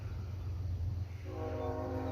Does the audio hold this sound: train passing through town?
yes